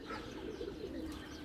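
Soft, low cooing from racing pigeons continues steadily, fairly close, with faint ambient noise and no talking.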